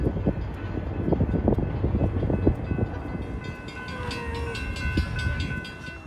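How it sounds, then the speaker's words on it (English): A Grand Canyon Railroad train rolls past outdoors with rhythmic clattering wheels over the rails, followed by sustained tonal squeals or horn-like tones as it moves on, heard from a moderate distance. "Can you hear that? That's the Grand Canyon Railroad."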